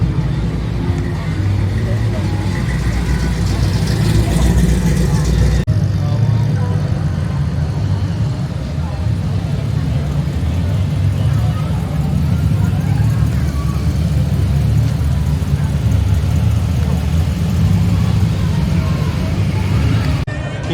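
Cars rumble along the main street during a hot rod run at Lake Mulwala, a steady close engine drone that continues throughout with talk over it.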